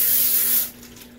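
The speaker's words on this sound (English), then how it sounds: "I'm going to spray it." Cooking spray hisses onto a baking pan being prepared for lasagna: one close, loud burst lasting about half a second that then cuts off, leaving a quiet room.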